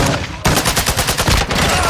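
Rapid shotgun blasts fill a Modern Warfare 2 match on the Shipment map. The close, loud shots come in a fast, steady rhythm of about a dozen reports and sound like a dense burst of gunfire.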